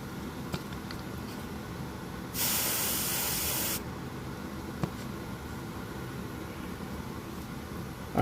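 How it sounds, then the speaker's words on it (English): A burst of spray paint hisses onto a miniature for about a second and a half, a loud, steady rush that stops abruptly, set against a quiet room hum with a couple of faint clicks. "That is a lot of overspray."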